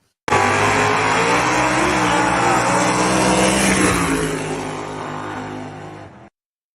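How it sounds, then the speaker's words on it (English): Drag racing cars roaring down a dragway in a semifinal run, a loud sustained engine blast that holds steady then fades away before cutting off. "Here's the semifinals where he raced Raggedy Ann down there."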